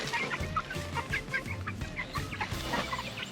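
Several chickens cluck steadily in a chicken tractor, a mobile outdoor pen, with short overlapping calls repeating close by at moderate loudness, with no talking.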